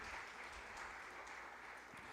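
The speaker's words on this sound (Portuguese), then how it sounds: "Dê um aplauso ao Senhor." Church congregation applauding the Lord during a worship service, a steady, soft wash of clapping lasting the whole moment with no voices over it.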